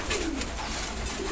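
Pigeons at a morning feeding, including fancy Sobji Gola birds, coo softly in a short, faint, continuous murmur over a noisy background, with no talk.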